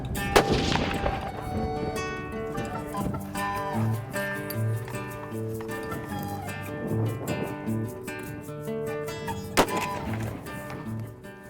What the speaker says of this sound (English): We've got one more of our hunters sighting their guns in.